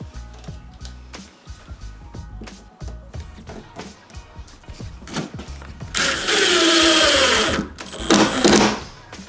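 A power drill drives screws into shower wall board for a tub surround, heard as loud buzzing bursts of whirring motor after a series of scattered clicks and knocks.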